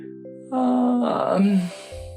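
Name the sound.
narrator imitating a flower's yawn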